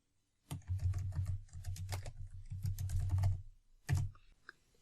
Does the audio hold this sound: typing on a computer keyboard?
yes